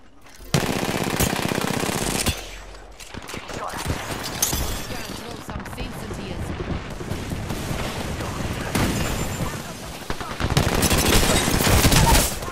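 Gunfire in an Apex Legends arena match comes as rapid automatic bursts, loud and close, starting and stopping in several stretches, with players talking over and between the shots.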